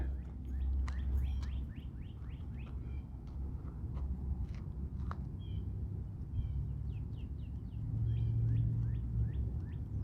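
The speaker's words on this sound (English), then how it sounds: "I'm trying to be quiet so you could possibly hear the birds chirping." Faint, distant birds chirping in short repeated tweets over a low background rumble, with no talking.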